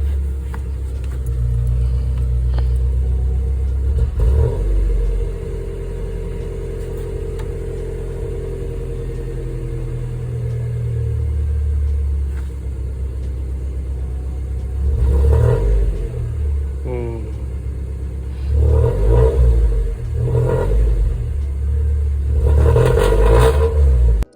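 A Nissan Sentra engine idles with a deep rumble, then revs several times, building to repeated louder bursts near the end; it sounds close and clear with no voices.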